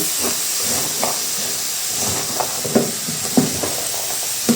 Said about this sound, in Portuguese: a gente refoga a nossa couve-flor como se estivesse mesmo refogando um arroz